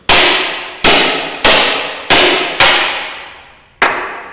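Six loud, ringing hammer strikes on a semi truck's metal frame, checking for rust, evenly spaced about a second apart, each clang decaying before the next, with no talking.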